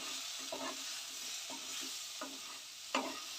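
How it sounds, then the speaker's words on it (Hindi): Raw papaya sabzi with garam masala frying in a pan, a steady close sizzle broken by several scraping stirs of the spoon, with no talking. "इसमें हम अभी 1 चम्मच गरम मसाला डाल देंगे। और इसको अच्छी तरह से फ्राई कर लेंगे।"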